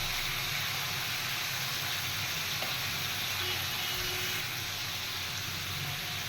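Chopped vegetables sauté in ghee in a pan, producing a loud, steady, dense sizzle that hisses evenly from start to finish.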